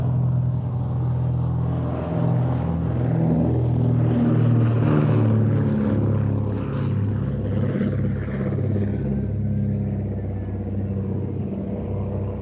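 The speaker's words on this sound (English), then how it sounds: "Also on show, this time at Kemble, was the glorious DH-89A Dragon Rapide" A de Havilland DH-89A Dragon Rapide biplane flies over the Kemble airshow, its piston engines producing a steady, throbbing propeller drone that swells and fades gently as it passes at moderate distance.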